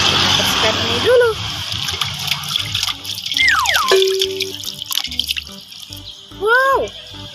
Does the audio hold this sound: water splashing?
yes